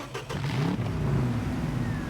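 A Ford F-450 truck engine in the Expeditions video game revs steadily at close range, a continuous low rumbling drone with no talking.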